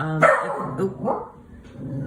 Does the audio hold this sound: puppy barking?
yes